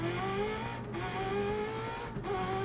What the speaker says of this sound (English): we'll still give it a V8 sound